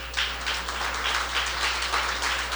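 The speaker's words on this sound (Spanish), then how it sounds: "Póngase sobre su pie y denle un aplauso al Señor." Church congregation applauding during a Spanish-language Bible study service: a steady wash of many hands clapping together, fairly loud and continuous throughout, with no voices over it.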